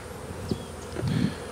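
Honeybees buzz around beehives in a Florida queen-production apiary, a soft, steady low hum with a few louder passes of bees flying near, with no talk.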